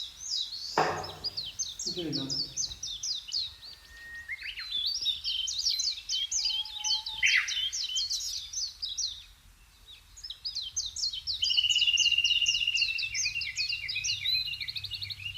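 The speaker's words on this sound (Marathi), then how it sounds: "मंदिरातली शांतता, पक्ष्यांची किलबिलाट आणि वाहत्या पाण्याचा आवाज" Birds chirp and trill in quick repeated bursts, fairly close, with a few knocks early on and a soft background hiss.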